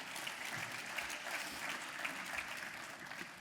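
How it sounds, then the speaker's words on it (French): A crowd at a sports awards gala breaks into applause, a short, even burst of many people clapping at moderate distance, sustained for a few seconds without anyone speaking. "Bonne main d'applaudissements."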